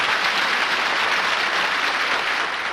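Sustained, loud applause from a church congregation greeting Mayor Dinkins as he enters the sanctuary of the First Baptist Church in Crown Heights, a steady dense clapping with no pauses.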